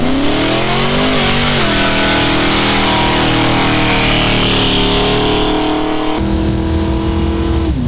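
A Dodge Hemi V8 revs hard and loud close by, its pitch climbing and falling through several sustained pulls before dropping sharply near the end, with no talk over it.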